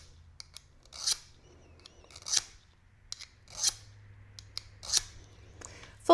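A sharpening tool drawn along the blade edge of garden shears, five crisp rasping strokes at a steady rhythm, each a short bright scrape with small clicks between, close and clear.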